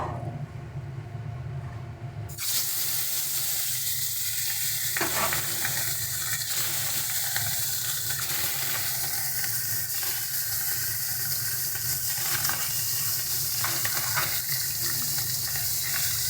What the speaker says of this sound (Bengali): এবারে মাছগুলো দিয়ে ভেজে নেব